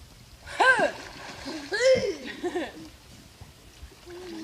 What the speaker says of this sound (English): you need to be sure to tip the canoe. Okay, we're coming over.